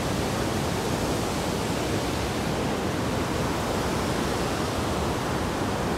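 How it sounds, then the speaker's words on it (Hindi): A fast mountain river on the route from Gobind Dham to Gobind Ghat rushes loudly and continuously, a dense broad roar of water with no pauses and no voices. "तो पानी तो बहुत तेज है इस टाइम"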